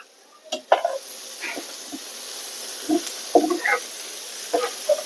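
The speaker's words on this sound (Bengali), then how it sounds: "রসুন আর আদা একটু ভালো করে ভাজা না দিলে তাহলে আদা রসুনের একটা গন্ধ আসবো।" Garlic and ginger fry in a pan for egg bhuna, a steady soft sizzle broken by several short scraping stirs of the spatula, close up with no talking.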